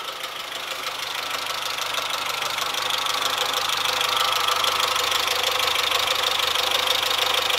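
A 2006 Fiat Stilo Schumacher idles with a steady, loud engine knock, a continuous fast rattling tick over the engine hum that stays constant throughout with no voices.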